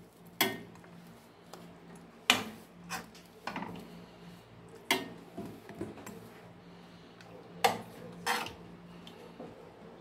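Pieces of chicken move from a frying pan into a baking dish, giving a series of separate clinks and scrapes of metal utensils against cookware, close by and irregular, with quiet pauses between them.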